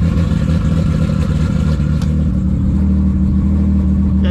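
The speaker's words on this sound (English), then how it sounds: "First step here is to warm the car up. Let's get that cold start." A 1700hp Nissan GT-R running with no exhaust fitted, idling loud and rough after a cold start with a heavy, steady low drone and a slight rise in engine pitch, close up.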